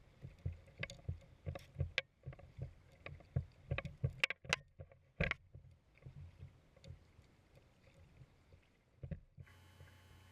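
Paddle strokes from a Hurricane Skimmer 140 kayak on Lake Stillhouse, a steady run of sharp splashes and knocks close by that thins out toward the end, with faint wind noise.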